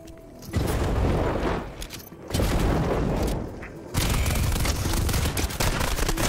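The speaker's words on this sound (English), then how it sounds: "They're shooting at somebody." Dense, loud gunfire from the Fortnite video game, coming in long overlapping bursts with brief lulls between them, close and continuous with little speech.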